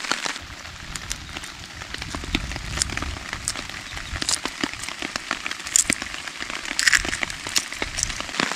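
Steady rain falls in a remote forest, a soft continuous patter with scattered crackling drops striking nearby surfaces, moderately quiet throughout with no voices.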